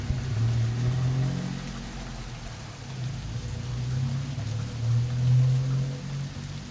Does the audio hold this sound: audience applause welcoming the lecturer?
no